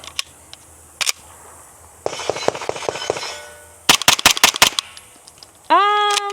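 Suppressed PTR rifle firing subsonic 115 grain rounds outdoors at a range, a few single muffled shots followed by quick bursts of sharp cracks, loud and close, ending with a separate tonal electronic beep.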